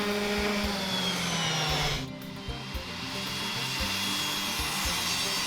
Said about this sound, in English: Use your table saw to make quick work of these straight cuts.